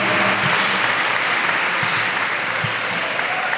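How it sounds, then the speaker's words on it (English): Audience applause at a Hispanic Heritage Month opening ceremony, a full, steady wash of clapping from the crowd, loud and sustained without pause. "Aplauso, mi gente."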